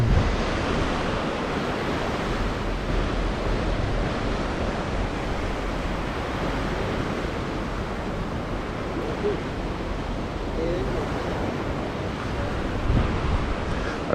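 Ocean waves crash and wash onto the beach at Prachuap Khiri Khan at sunrise, a continuous loud roar of surf mixed with wind buffeting the microphone and no clear talk.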